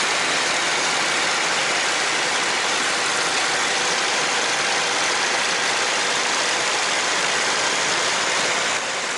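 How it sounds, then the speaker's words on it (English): A P-40N Kittyhawk's piston engine roars steadily in flight. The sound is a loud, constant, dense drone with wind noise, heard close up from the cockpit without pause for the whole stretch. "For a loop I need a bit more power, so I'm increasing the RPM and the manifold pressure to a high cruise setting"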